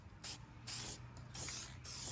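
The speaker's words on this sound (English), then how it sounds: "you got to grab a can of spray paint. You got to mark this" A spray paint can hisses in four short bursts close by while marking balanced parts during removal of an automatic transmission from a BMW E36 318i, with quiet gaps between the bursts.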